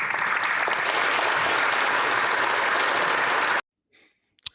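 Loud, steady applause fills a parliamentary chamber for several seconds, then stops abruptly, leaving near silence with a faint breath or murmur and a small click at the end.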